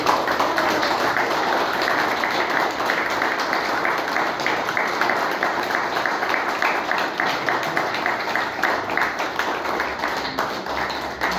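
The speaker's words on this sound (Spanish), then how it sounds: "que todos le den un aplauso a nuestra querida Olga Linares" An audience gives sustained applause in honour of a co-founder of a human rights group, a dense, even wash of many hands clapping close and loud without a break.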